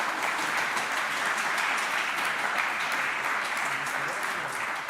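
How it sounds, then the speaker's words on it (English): An audience claps steadily at a Diwali gathering to welcome a temple priest singer, a continuous, moderately loud patter of many hands throughout. "Maybe have a little clap so that we can welcome him."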